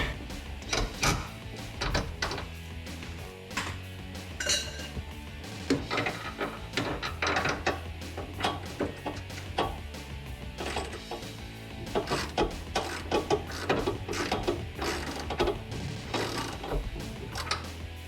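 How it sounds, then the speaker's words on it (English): An 18mm socket on a ratchet works bolts loose from the front bumper frame piece of a Jeep Gladiator JT. Repeated close ratchet clicking comes in uneven bursts, with metallic clanks and brief pauses throughout. "We're going to take off these 2 bolts once again with our 18mm socket."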